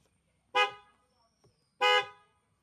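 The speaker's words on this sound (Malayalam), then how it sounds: "ഓ എന്തിനാ അമ്മ ഇങ്ങനെ കിടന്ന് ഹോൺ" Two loud, long car horn blasts from a car nearby, separated by about a second of near silence with a faint click between them.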